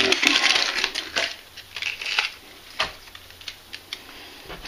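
Vegetables being peeled by hand for a vegan beef stew, with a run of short scraping and crackling strokes, close and fairly crisp, some sharp ticks between them, and no talk.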